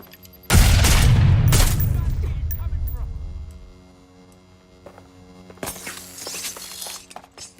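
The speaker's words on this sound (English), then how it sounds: "Dropping frag grenade." A frag grenade blows up in Watch Dogs: Legion with a sudden loud blast and shattering debris that rumbles and fades over a few seconds, then sharper crackling bursts follow later.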